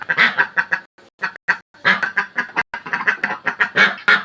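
A flock of ducks quacking loudly and insistently in rapid, overlapping bursts, calling to be fed, close by with brief gaps between volleys.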